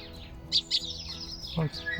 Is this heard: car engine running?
no